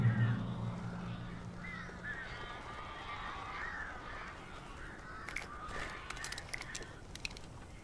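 Birds caw and honk in Alan Wake Remastered, scattered harsh calls over a low ambient background, with a brief low hum at the start and flapping-like bursts near the end.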